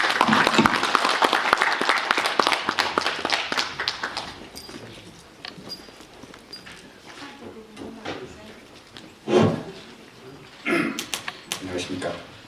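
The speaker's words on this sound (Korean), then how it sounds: "뜨거운 박수로 환영해 주시면 감사하겠습니다" Applause at an inauguration ceremony for a Korean weekly newspaper, brisk clapping at the start that thins out into scattered claps, with a few nearby knocks and thumps following.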